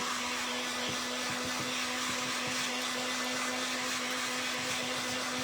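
A heat tool drying an IOD paint inlay on ceramics gives a steady, even blowing whir that holds constant throughout, close and alone with no talk.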